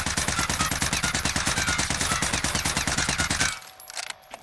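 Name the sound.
C58 rifle firing 45 rounds, Call of Duty Warzone video game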